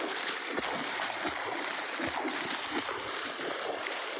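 Floodwater from an overflowing river spills across a road near Sagara during heavy rain, a steady close wash of rushing water with soft splashy low thumps throughout.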